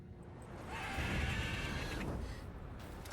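A mare in The Witcher 3 gives a drawn-out whinny that rises and wavers for over a second, heard clearly over a low rumbling game background with no talk.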